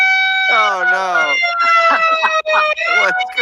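Ambulance-style siren wailing loud and close, a steady rising-and-falling electronic tone that sweeps continuously for about three seconds with no speech over it.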